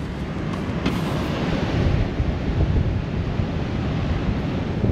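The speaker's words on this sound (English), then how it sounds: "Of course, that's the open ocean." Open ocean surf breaks steadily along the exposed east coast shoreline of Moreton Island, a loud continuous wash of waves with wind buffeting the microphone throughout.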